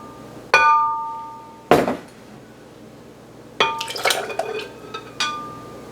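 Apple cider vinegar and red wine vinegar go into a blender in a home kitchen, heard as a few separate bright clinks and taps of glass and spoons with brief liquid splashes between quiet gaps.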